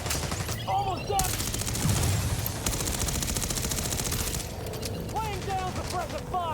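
Sustained automatic gunfire rattles in the Division Resurgence video game, with rapid bursts that stop and restart, mechanical clatter and faint voice fragments mixed in.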